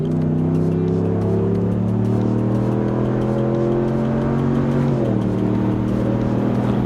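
A 2019 RAM 1500 with a 5.7L HEMI V8 and Flowmaster American Thunder catback exhaust revs loudly nearby, its deep rumble climbing steadily in pitch and then dropping back after about five seconds, with no voices.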